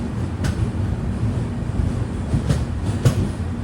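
A Vivek Express train rumbles steadily at platform 1 of Nagercoil Junction, a low continuous rolling noise with a few faint clanks and brief squeals scattered through, no voices.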